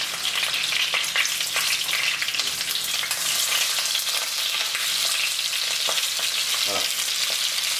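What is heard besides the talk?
duck breasts searing in a dry pan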